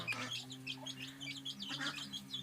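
A broody hen clucks softly and steadily while many newly hatched chicks peep in quick, high bursts close by, tucked beneath her.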